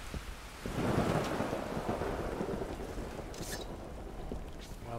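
Steady rain pouring down with a deep rolling rumble of thunder swelling early on, dense hiss continuing throughout, close and fairly loud.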